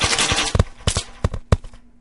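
Rapid gunfire in Happy Wheels, a string of sharp, loud shots in uneven bursts, several in quick pairs, ringing out close and alone.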